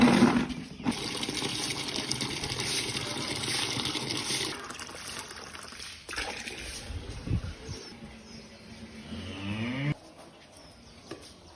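Water is poured and fills a container, a moderately loud splashing gush that changes in tone as it goes and quiets near the end.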